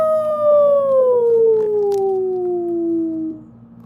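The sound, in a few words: people imitating a wolf howl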